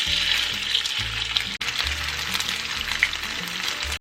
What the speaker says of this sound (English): we're going to fry them for about 2 to 3 minutes until they are golden brown